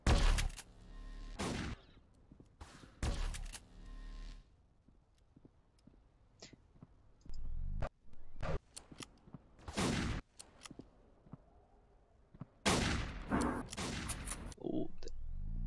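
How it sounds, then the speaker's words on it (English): Sharp, repeated energy-weapon shots from plasma sniper rifles in the Warmerise shooter trade back and forth in irregular bursts, loud and close, with quieter gaps between exchanges. "Sniper shootout with plasma"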